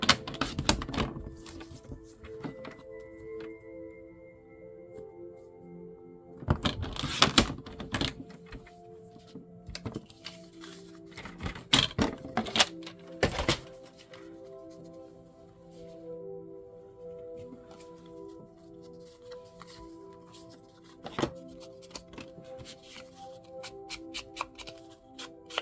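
A bladed paper trimmer slicing a quarter-inch strip off a sheet, with a few sharp cutting bursts and paper handling noises between them, fairly close with no talking.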